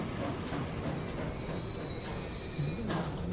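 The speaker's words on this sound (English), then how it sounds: "The cargo train should be following us in pretty soon." Freight train in the Transport Fever 2 game rolls along with steady rumbling, sustained high wheel squeal and rail noise, no talking.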